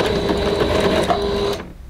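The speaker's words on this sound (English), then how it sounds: "So I'm just going to sew down." A sewing machine stitches down the edge of a fabric hang towel, running in a steady, fast mechanical whir up close, then cutting off abruptly near the end.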